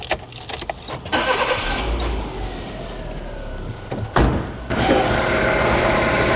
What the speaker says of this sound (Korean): 일단 시동을 걸고 엔진룸을 한번 보시겠습니다.